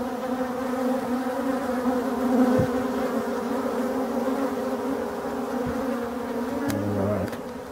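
Drone honeybees buzz around beehives in a forest, a dense continuous hum of many insects close by, steady for several seconds with individual bees passing near.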